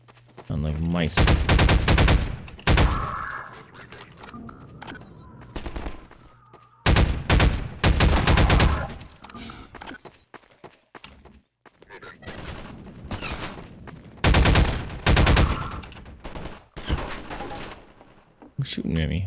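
Rapid bursts of gunfire from weapons in the video game Half-Life 2, with loud volleys recurring throughout and a voice talking between and over the shots.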